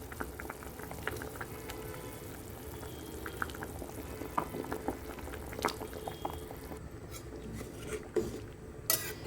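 Rohu fish curry broth boils in an uncovered pot, a continuous bubbling simmer with small pops and spits scattered throughout, moderately close and unaccompanied by voices.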